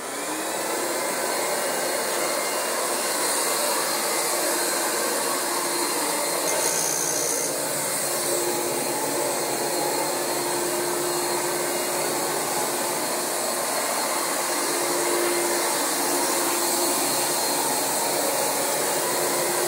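A Rug Doctor rental carpet cleaning machine runs on damaged carpet with a loud, steady motorized whine and suction roar, unbroken throughout, close by.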